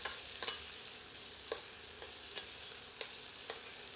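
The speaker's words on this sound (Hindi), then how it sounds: "भूनते रहते हैं जब तक कि प्याज पारदर्शी नहीं हो जाती" Onions fry over medium heat in a pan for a chicken curry, a faint, steady sizzle punctuated by sharp spoon taps at fairly regular intervals of about half a second to a second.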